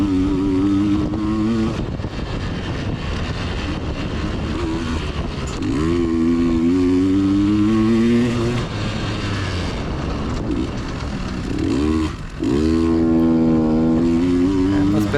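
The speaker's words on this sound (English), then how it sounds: "It's freaking winding this bike out." Dirt bike engine revving hard during a hare scramble race at Timber Ridge, loud and close, winding up through the gears with short drops between shifts and repeated climbs in pitch.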